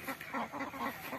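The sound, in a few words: ducks on a fish farm pond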